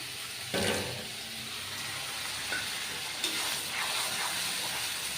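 A dash of water meets a spice masala frying in oil in a pan, bursting into a loud hiss and then settling into a steady, close sizzle with faint stirring scrapes.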